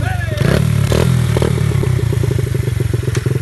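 Motocross motorbike engine pulling away as a first-time rider lets the clutch out, a steady rough idle thrumming with clattery pulses and a brief rise, close by and loud.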